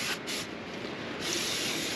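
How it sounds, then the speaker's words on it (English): An aerosol spray can spraying cleaner onto a brake shoe of a 1980-1996 Ford F250 or F350 rear drum brake, a close, continuous hiss in a couple of short bursts. "let me spray off the brake shoe real fast."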